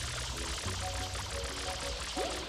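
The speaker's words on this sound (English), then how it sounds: "Let's spray water and slide." Water spraying from FLUDD in the video game Super Mario Sunshine, a steady broadband hiss and rush continuing throughout, with faint game tones and effects over it.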